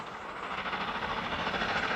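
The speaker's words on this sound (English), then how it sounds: "Today, the train is reborn as the Venice Simplon Orient Express, and its destination is Italy." The Venice Simplon Orient Express rolls along the tracks with a steady, moderately loud rumble and a faint rhythmic rattle of the carriages, heard on its own without talk.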